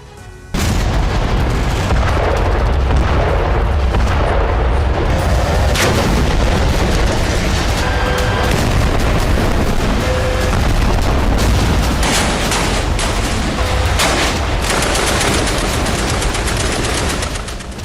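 Gunfire and explosions during an attack in the West Bank: loud, dense bursts of rapid shots and heavy booms going on almost without a break, with sharp impacts standing out and no voices.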